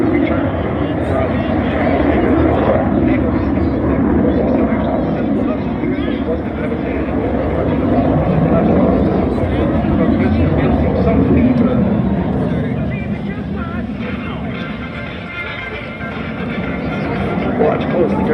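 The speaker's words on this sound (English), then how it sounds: "Will demonstrate the utility of the Hornet in change of direction. And it will fly the aircraft in a high G360 return." A CF-18 Hornet fighter jet roars continuously through a high-G turn at an air show, a loud, broad engine rumble persisting for the whole stretch while an announcer talks over it.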